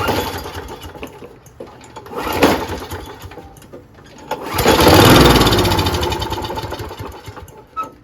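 Briggs & Stratton Quantum 6HP engine on a Toro GTS snowblower with a dirty carburetor, running rough on starter fluid: a loud, uneven putter that surges and swells midway, then fades and sputters, no talking.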